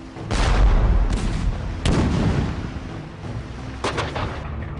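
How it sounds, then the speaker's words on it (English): British artillery barrage with guns firing, deep booming blasts rolling into a sustained rumble, with a few distinct heavy reports spaced a second or two apart. "the British answer with a barrage only the world's most powerful empire could muster"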